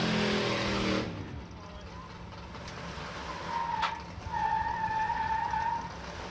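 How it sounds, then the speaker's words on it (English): At a drag racing start line at Santa Pod Raceway's Nostalgia Nationals, a loud rushing burst opens, then a car's tyres let out a thin, sustained squeal in the distance over a low engine rumble. "that's a rather interesting noise. Tyre screecher coming up to the line."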